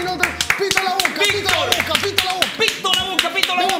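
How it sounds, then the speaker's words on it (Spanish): Applause for Real Madrid after a FIFA 16 tournament match: scattered, close hand claps ring out beneath steady, excited talking from several people. "Le damos un fuerte aplauso al Real Madrid"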